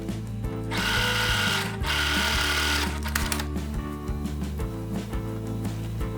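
A sewing machine stitches the bottom of a check-fabric hobo bag pocket, running in steady motor-driven bursts with a rhythmic needle whir, close and loud, briefly pausing and restarting, with no talk.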